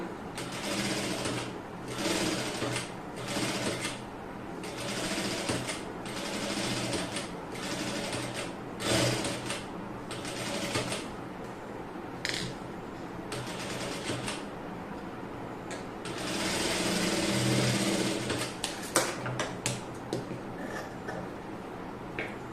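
A sewing machine stitches a cross piece onto an unlined neckline in repeated short bursts of rapid mechanical whirring, close and fairly quiet, with brief pauses between runs and a longer steady run near the end.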